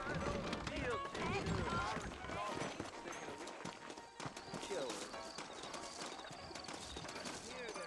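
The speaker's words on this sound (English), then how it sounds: "I got the horses saddled up and ready out front." Saddled horses trot in the Wild West video game Red Dead Redemption in New Austin, a rapid continuous clip-clop of hooves close by, running under steady talk.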